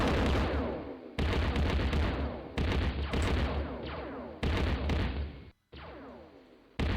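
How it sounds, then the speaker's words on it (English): Heavy gunfire in the game Total Mayhem, a series of loud, booming bursts and rolling volleys that repeat every second or so, with one brief cut to silence before the shooting resumes. "What's shooting at me?"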